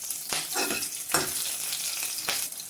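Chana dal and bottle gourd sizzle steadily in a frying pan with ginger and green chilli as a spoon stirs them, a few scraping strokes rising over the continuous frying hiss.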